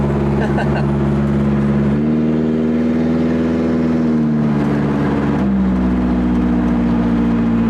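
A Hyundai Sonata track car engine revs hard and steadily, its pitch rising and dropping as the throttle changes, loud and close, with voices nearby.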